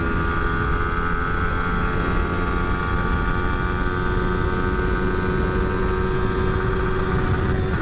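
A Yamaha R15 V4 motorcycle engine accelerating in fifth gear toward top speed, a loud continuous high-pitched engine whine that rises steadily, with heavy wind rumble underneath.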